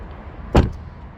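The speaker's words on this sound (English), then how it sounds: "Tiff, back door, double glazed" The double-glazed back door of a 2024 Tesla Model 3 Highland closes in one tight, loud thud with a quick decay, heard up close over a low background.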